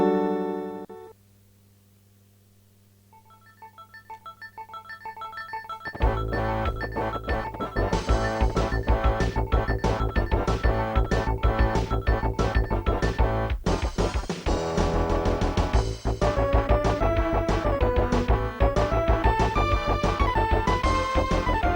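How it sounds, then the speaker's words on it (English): Capcom logo jingle followed by the Street Fighter 2 theme from the SNES version, a loud chiptune-style video game track that opens with a short sparse intro, then swells into a steady, busy melody with driving percussion and no voices. "the classic intro logomatic for Capcom, and then the theme from the SNES version of Street Fighter 2"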